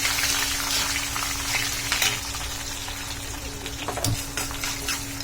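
Garlic cloves and a large piece of ginger sautéing in a pan for pudhina chutney, a steady close sizzle with light stirring scrapes and a faint hum underneath, one sharper clatter near the end.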